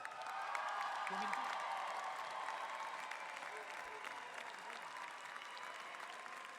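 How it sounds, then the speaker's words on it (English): Graduation ceremony audience applauding in a large hall, a sustained wash of many hands clapping at a distance, steady and fairly soft, with faint voices mixed in. "Give yourselves a round of applause."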